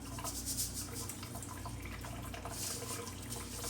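Rice rinsed in a sifter under cold running tap water, a steady close splashing flow with faint dripping, continuous and without talk.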